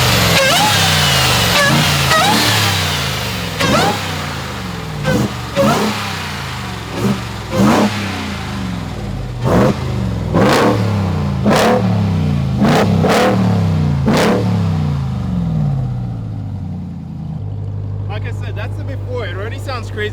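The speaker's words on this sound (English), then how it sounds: "this is what the truck sounds like before. We're going to start off at the front so that you guys could hear the supercharger." A Ram TRX pickup with its stock exhaust is revved repeatedly near the front so the supercharger whine stands out, in sharp bursts that rise and fall over a steady idle.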